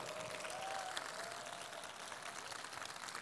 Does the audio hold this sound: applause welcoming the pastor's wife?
yes